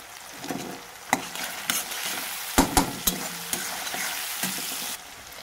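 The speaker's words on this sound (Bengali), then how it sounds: "টমেটোটা দিয়ে আবার একটু নেড়ে চেড়ে নিচ্ছি।" A spoon scrapes and stirs tomato and turmeric frying in a pan, with soft sizzling underneath and a series of sharp knocks and clatters against the pan, close and alone.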